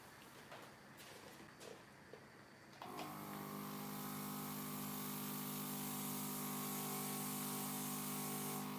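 An airbrush machine for decorating a frozen cake starts up after a few quiet seconds of small knocks, then holds a steady, even whirring hum with a faint hiss until the end.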